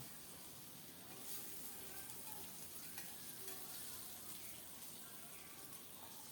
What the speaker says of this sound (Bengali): মাছগুলো গরম তেলে দিয়ে দিচ্ছি একেবারে লাল লাল করে ভেজে নেব